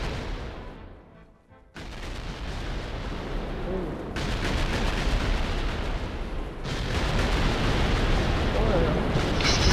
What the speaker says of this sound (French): Je sais pas si vous entendez les bruits d'explosion, moi oui